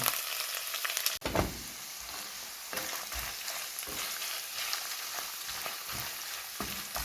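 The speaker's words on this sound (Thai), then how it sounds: "เอาหน่อไม้ลงไปผัดก่อน" Bamboo shoots stir-fry in hot oil with a constant close sizzle, punctuated by a sharp knock early on and repeated scraping stirs of a spatula in the pan, no voices.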